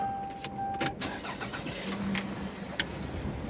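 A 1996 Toyota RAV4 L with automatic transmission and all-wheel drive cranks briefly and catches, settling into a quiet idle close by with a couple of sharp clicks.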